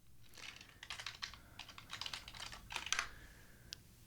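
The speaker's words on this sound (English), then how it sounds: "if I type the password correctly" A password is typed on a computer keyboard: a quick run of soft, close clicks in small irregular clusters, ending with one last tap.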